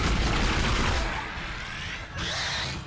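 Gunfire in the Dead Space video game comes as a burst of rapid, loud, close shots, followed by a short pause and another harsh blast, with no talk over it.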